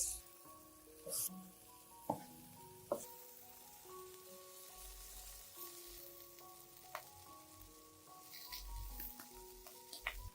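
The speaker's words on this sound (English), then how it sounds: "Place a few slices of tomato on the pan." Tomato slices fry in butter and oil in a pan, a soft continuous sizzle with scattered pops and occasional clinks of utensils, fairly quiet and close.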